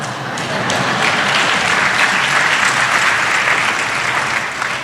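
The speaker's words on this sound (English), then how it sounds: "That's the best applause I've gotten in a long time" An audience at a graduation hooding ceremony for a medical school class applauds steadily, a dense, loud wash of clapping that holds evenly for about five seconds with no voices on top.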